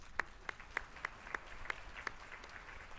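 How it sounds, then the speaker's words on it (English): Scattered claps ring out for award recipients at the IU Southeast State of the Campus Address, about ten distinct, evenly spaced sharp hand claps over a quiet room, fairly faint and sparse rather than a full ovation. "One more round of applause if we could."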